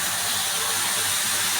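Water mixed with a little leftover oil is poured into a pot of cooking vegetables, cauliflower, carrot, potato and peas, giving a steady close sizzling hiss with no pause across the short moment.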